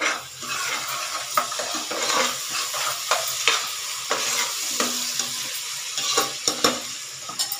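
Onions frying in oil with a little salt in a pot for mutton curry, a steady close sizzle with frequent sharp clicks and scrapes of a spoon stirring against the pan.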